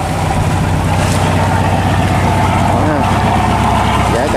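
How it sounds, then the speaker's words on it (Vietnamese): A fishing boat rides out big waves and strong wind at sea off Binh Thuan, with a loud, steady engine drone and wind roar throughout, waves sloshing against the hull. "sóng to gió lớn quá"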